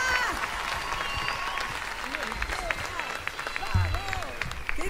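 A crowd at a concert for the Río Gallegos anniversary applauds a singer with sustained clapping and cheering, with a few shouts and voices mixed into the dense wash.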